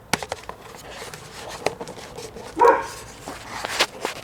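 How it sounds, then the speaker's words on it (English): A dog barks a few times in the background of an outdoor workshop during a spray-painting job, short sharp yaps scattered through the clip, the loudest burst near the middle, moderately distant. "If that goddamn dog will shut up."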